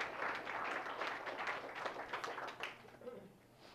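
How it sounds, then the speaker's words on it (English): An audience applauds a cadet speaker at a talk, a dense burst of clapping that holds steady and then thins and fades toward the end. "Everybody, please give a big round of applause for Cadet Federico."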